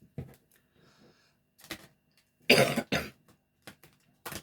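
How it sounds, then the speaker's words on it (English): One person coughs a few times in short, separate bursts, close by, with quiet gaps and some faint clicks between them. "I do apologise about coughing."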